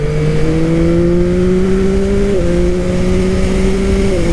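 A 2021 Yamaha MT-09 SP motorcycle engine accelerates loudly and close up, its strong humming tone rising steadily through two short gear-change dips.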